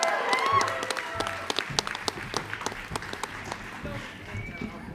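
A convention audience applauds with scattered, crisp claps and cheers, while a voice talks over the clapping.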